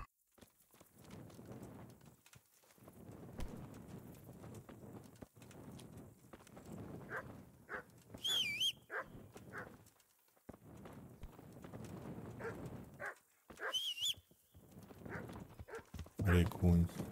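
Hooves clip-clop at a walking pace in the video game Kingdom Come: Deliverance, uneven steps with louder bursts partway through, while a player talks over the game sound.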